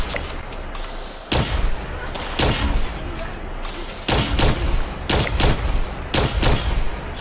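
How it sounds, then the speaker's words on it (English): An enclave plasma rifle fires in Fallout 76, with several sharp loud shots spaced irregularly over a few seconds amid game ambience. "Their handy dandy plasma, enclave plasma rifle."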